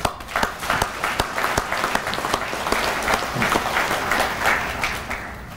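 An audience at an American Legion awards event applauds the winners, a lively round of many clapping hands with distinct sharp individual claps standing out, holding steady and tapering slightly toward the end.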